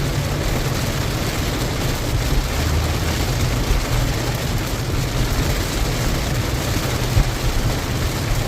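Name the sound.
heavy rain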